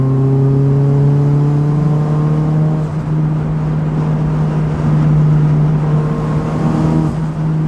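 A 406 bhp Vauxhall Corsa VXR engine idles loudly and close, its throttle tickled in a few gentle blips that raise and drop the revs, with a steady droning hum between them.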